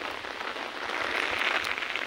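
Rain falls steadily in an even, close hiss of drops on surfaces, with no voices.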